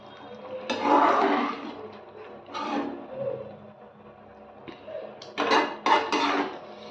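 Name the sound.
stirring pepper gravy in a pan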